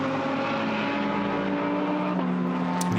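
A GT endurance race car at Monza during pre-qualifying, a steady loud engine drone with strong harmonic tones that shift slightly as it holds speed, close and continuous throughout.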